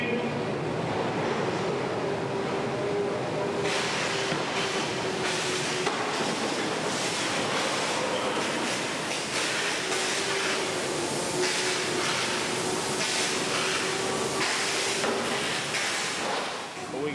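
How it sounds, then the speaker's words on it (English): A subway train arrives on a film set, a loud sustained rumble and roar with wind-like rushing that swells in bursts and carries a faint tonal screech, running continuously throughout. "Here comes the train."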